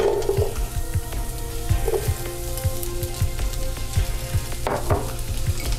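One large onion frying in a pan for Chamorro chicken curry, a loud continuous sizzle with regular spatula scrapes and clicks against the pan, no voices.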